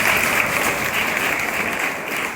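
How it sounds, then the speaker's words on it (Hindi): Loud, dense audience clapping at a motivational talk, many hands applauding together in a sustained, even wash of sound close to the listener. "एक बार तालियां बजाइए।"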